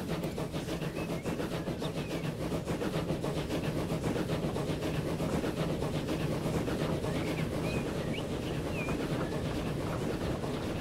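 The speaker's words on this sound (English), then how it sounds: "Nice looking train." A train running in Transport Fever 2 on the Greater London map, giving a steady, continuous rumble with a faint squeal on top, unbroken and fairly loud throughout.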